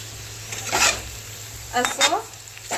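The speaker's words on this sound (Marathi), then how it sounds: "तळून घ्यायचं तेलामध्ये" Garlic fries in oil in a pan, a soft sizzle beneath two brief clinks and scrapes of a spoon stirring against the pan, heard close with a steady low hum behind.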